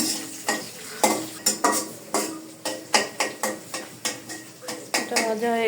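A spoon scrapes and knocks in an uneven rhythm of sharp strokes against a pot of frying khichuri, with sizzling underneath, close up and with no talking.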